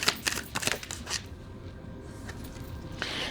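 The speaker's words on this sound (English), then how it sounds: "Let me pull cards here." Tarot cards being shuffled and pulled from the deck, a quick run of crisp riffling flutters followed by softer card slides and taps, close and alone.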